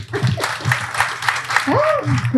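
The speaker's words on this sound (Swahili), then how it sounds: "Jamani, tumpigeni makofi." A crowd at a football statistics talk gives a burst of clapping that is steady and moderately close. A voice talks over it.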